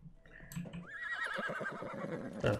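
A horse whinnies in the video game Life is Feudal, a long, wavering neigh, fairly clear and up front, with a faint snort at the start and a short noise burst at the end.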